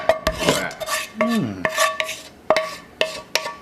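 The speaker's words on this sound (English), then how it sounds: "Now, I want to just stir this up a little bit." A utensil stirs mushrooms around a cooking pan, giving a quick run of sharp scrapes and clinks against the metal, close and fairly loud, with no talking.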